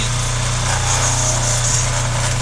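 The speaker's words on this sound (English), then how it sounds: "The high pressure pump is making an unusual noise to normal" A water-maker's high-pressure pump drones with a constant low hum and an unusual whining, buzzy overtone, running without pause at close range.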